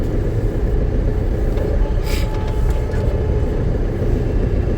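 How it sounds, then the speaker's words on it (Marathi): Heavy road traffic makes a constant, loud, low rumble of engines with a few brief passing-vehicle swells, and no voices stand out. "मजबूतवाली ट्रॅफिक आहे"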